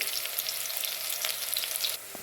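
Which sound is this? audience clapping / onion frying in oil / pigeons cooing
onion frying in oil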